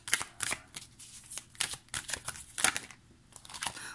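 Tarot cards being laid out and shuffled on a table, with a series of crisp papery slaps and flicks at irregular intervals, close and moderately loud, with no talking.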